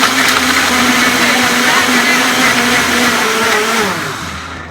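A Breville Boss blender runs its green smoothie cycle with a loud, steady motor whir and churning roar close by, holding level before tapering down as the cycle winds toward its end.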